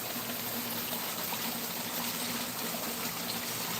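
A garden pond waterfall runs in a steady, even rush of falling water, close and continuous with no talk over it.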